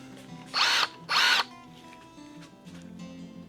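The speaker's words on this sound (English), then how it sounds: "I'm drilling out the rivets now to make that possible." A power drill boring out rivets on DeLorean door trim, two short loud whining bursts close by, followed by quieter background hum.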